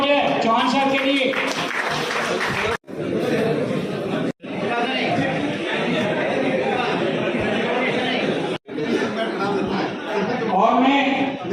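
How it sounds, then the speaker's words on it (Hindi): Hall of life insurance agents at a federation meeting breaking into applause mixed with chatter and chuckles, a steady loud crowd wash running most of the clip with a few brief breaks. "जोरदार तालियां हो जाए चौहान साहब के लिए"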